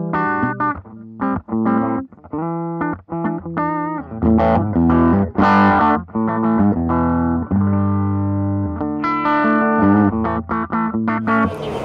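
A fat clean electric guitar tone played through a Vox MV50 50-watt amp, with strummed chords and picked melodic phrases in bursts with short pauses, close and full with slight effect shimmer.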